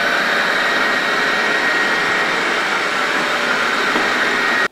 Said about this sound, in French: je suis très content de pouvoir te présenter aujourd'hui cet aspirateur robot de la marque Lefan. Il s'agit donc du N3.